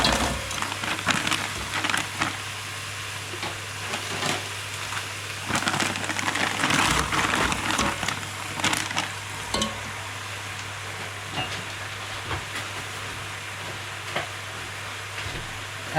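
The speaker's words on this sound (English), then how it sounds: "So now I'm gonna add the frozen whole leaf spinach." Frozen whole leaf spinach going into a hot cooking pot, with crackling and sizzling and a few clattering stirs that settle into a steady background crackle.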